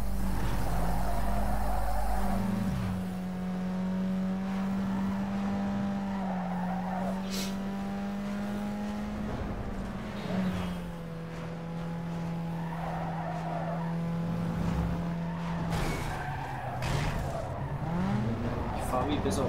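Need for Speed Underground 2 race car screeching through long tire skids over a steady engine drone, squeals rising and falling for most of the run while someone talks over it.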